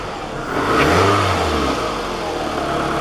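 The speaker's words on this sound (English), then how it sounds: "it really struggles to get running, and I'm giving it some gas." A Toyota Camry engine with a dirty throttle body revs roughly, rising briefly and then settling into an uneven, laboring rumble, loud and near.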